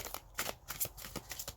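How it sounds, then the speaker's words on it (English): Tarot cards shuffled by hand in quick, soft riffling bursts, close and fairly quiet, with no talking. "I'm gonna keep shuffling."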